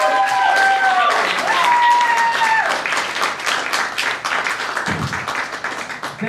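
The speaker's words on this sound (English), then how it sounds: "Give yourselves a round of applause." Comedy theater audience applauding at the end of a show, a crowd clapping steadily as a few sustained musical tones ring out early, then thinning into scattered claps and murmurs.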